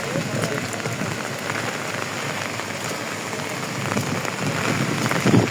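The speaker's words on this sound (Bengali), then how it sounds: "অনেক জোরে বৃষ্টি পড়তেছে" Heavy rain pours down steadily on an outdoor cattle and goat market in a dense, loud hiss, drumming on surfaces throughout with a slight swell near the end.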